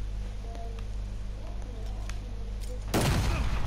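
Incoming gunfire aimed at the player in the Call of Duty Modern Warfare beta: scattered faint shots over a steady low rumble, then a sudden loud burst of close fire at the end.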